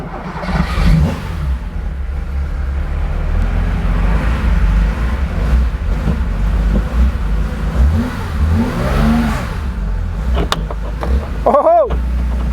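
A Porsche 911 2.8 RSR build car is driven for the first time, its engine running loudly and steadily throughout, with revving swells near the end and brief voices over it.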